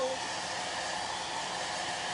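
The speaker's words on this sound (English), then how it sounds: "I'm taking my hair dryer. I don't know if you can see, you probably can't, but I'm drying the transfer." Hair dryer blowing on a chalk transfer for crafting, a close, constant loud rushing whir with no breaks.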